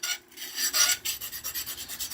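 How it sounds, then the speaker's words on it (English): A blade is rubbed on a fine diamond plate in short, rhythmic rasping strokes, close and fairly loud, with no talk. "move on to a little fine diamond plate and polish out the deep scratches"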